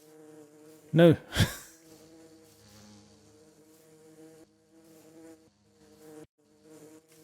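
Bees from an Enigmatica 6 Minecraft modpack hum in a steady, layered drone, with a couple of louder close buzzes up front before settling into a quieter continuous hum.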